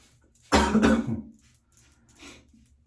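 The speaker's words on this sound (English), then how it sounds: "please excuse the cough" A person coughs once, a loud, close, harsh burst of two quick hacks, followed by a fainter throat-clearing rasp a second later in an otherwise quiet room.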